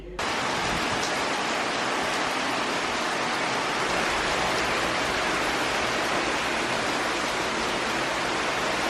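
Steady rain falling in a continuous, dense hiss that stays loud and even from start to finish, with no voices or other distinct sounds.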